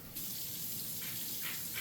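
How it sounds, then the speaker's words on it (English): Hands are washed under a running kitchen tap while preparing roasted peppers, a steady close gush of water that starts abruptly and keeps flowing, with splashy surges as the hands move beneath it, with no talking. "I'm just going to give my hands a quick wash."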